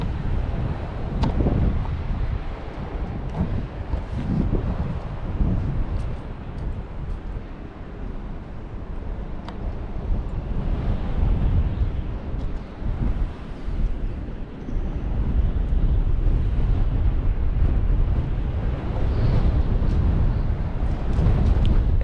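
Strong wind rumbles and buffets without a break on a bank of the River Humber during sea fishing. The low, roaring gusts rise and fall throughout with no talking.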